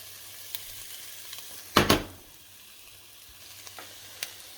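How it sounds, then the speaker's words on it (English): Chopped onion drops into a hot pan of coconut oil and bursts into a loud sizzle that quickly fades to a quiet simmer. "Get it sizzling."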